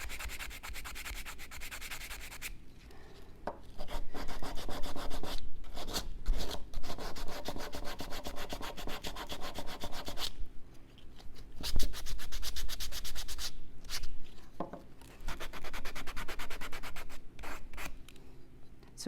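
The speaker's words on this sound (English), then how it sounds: "So we can sand all those parts." Steady scraping rasp of sandpaper rubbing the sharp edges of a wooden turtle toy, in repeated back-and-forth strokes with short pauses, close and clear with no talking.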